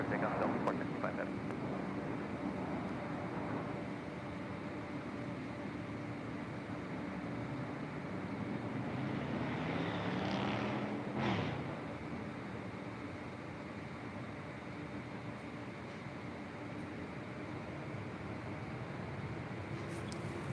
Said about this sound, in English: Delta Airlines Flight 465 heading to Honolulu, 767-300ER.